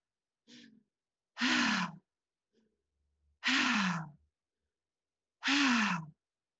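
Three slow, loud, sighing exhalations come from a person in guided meditation, each preceded by a quieter breath, with long silent pauses between.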